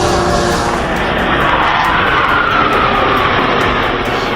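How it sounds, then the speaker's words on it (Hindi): A two-seater microlight aircraft flies at the Dal Lake air show, its engine a loud, steady drone that fills the whole stretch with no voices over it. "डल लेक के एयर शो की शुरुआत में माइक्रोलाइट एयरक्राफ्ट उड़ा।"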